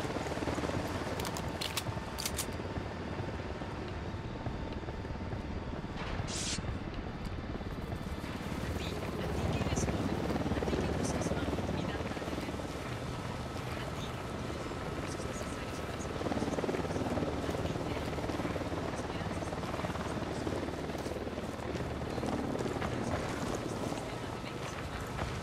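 An enemy Unidad patrol helicopter in Ghost Recon Wildlands flies nearby, its rotor a loud, steady chopping drone that lasts throughout, joined by other game noises.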